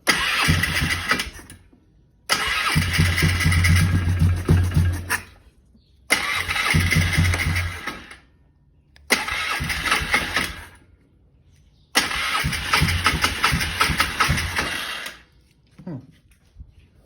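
A four-wheeler ATV engine with the choke on cranks and catches in five loud, rough bursts of a few seconds each, separated by short silent pauses as it is restarted.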